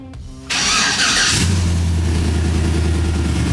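An LS V8 in a Chevrolet C10 pro touring truck cranks briefly, catches and fires up loud and close, then settles into a steady, rumbling high idle after a quick rev.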